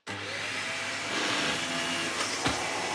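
A Hoover HL4 bagless upright vacuum cleaner runs on carpet, its loud, steady motor drone starting abruptly and holding constant for about three seconds.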